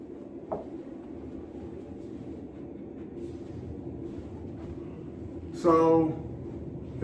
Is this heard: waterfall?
no